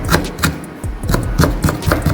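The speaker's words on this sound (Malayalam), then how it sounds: "നൈസായിട്ട് അങ്ങനെ ചെറുതായിട്ട് അരിഞ്ഞെടുക്കാം" A knife finely chops large shallots on a board for a Kerala-style masala: quick, loud, close, regular taps with no talking.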